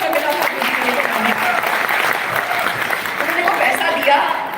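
An audience at a march gathering in Delhi breaks into strong, continuous applause, with thick clapping and faint voices underneath.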